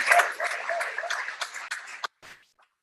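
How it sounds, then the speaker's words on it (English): Applause from the audience at the EcoSchoolsNG 2021 close-out event, fairly faint scattered clapping that stops abruptly after about two seconds, leaving near silence. "Can we give a round of applause,"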